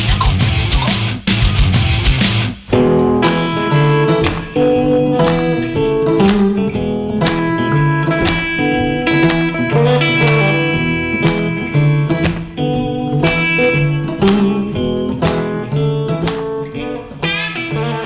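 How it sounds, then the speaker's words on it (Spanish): A full band plays an upbeat country song with twangy guitars, steady drums and bass, loud and continuous throughout, no speaking voice. "Lo que suena así tan, tan country, tan lindo,"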